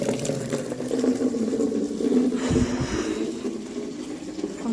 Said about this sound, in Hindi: कूलर में पानी भी भरना है